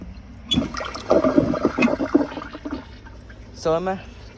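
An American Standard Cadet pressure assist toilet, partially clogged, flushes with a loud rushing surge of water for a few seconds, followed by a brief gurgling refill sound; no speech over it.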